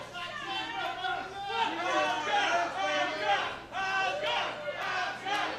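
A large crowd cheers and shouts continuously at a fight, many voices overlapping in loud waves of excited yelling.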